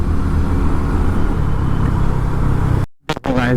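Delhi road traffic heard from a moving vehicle: dense engine drone and road rumble fill most of the stretch, then a sudden cut followed by brief close sounds.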